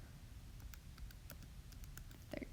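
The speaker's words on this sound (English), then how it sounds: "what the approximation is by typing that into our calculator" Quiet, rapid patter of button presses on a calculator keypad, a run of light irregular clicks at close range with a small cluster near the end, no voices.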